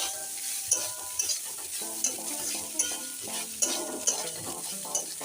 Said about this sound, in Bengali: আমি নেড়ে চেড়ে নেবো, নিয়ে আমি ঢেকে ঢেকে এটা ভাজবো